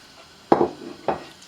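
A spoon stirs potatoes, chicken and vegetables together in a bowl. Two soft, dull clunks land about half a second apart against a quiet background.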